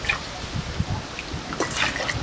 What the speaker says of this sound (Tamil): இப்போ மண் பாத்திரத்தில் தண்ணி வச்சு இப்போ நல்லா கொதிக்குதுங்க